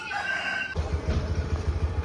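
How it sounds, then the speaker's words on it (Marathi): A rooster's crow rings out briefly and clearly, then gives way to a low, rumbling background that sounds like a passing vehicle. "आणि एक कोंबड्या बघा, एवढा मोठ्या कोंबड्या आहेत,"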